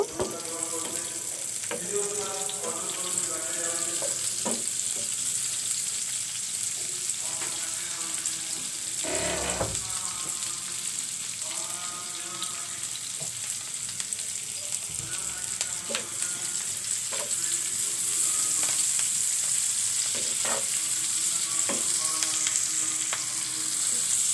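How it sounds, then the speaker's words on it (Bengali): Onions and chillies frying in mustard oil, a steady close sizzle running throughout with repeated scraping stirs of a spatula in the pan, ending in a sink-like wash of sound. "পেঁয়াজ মরিচ লাল করে নিলাম।"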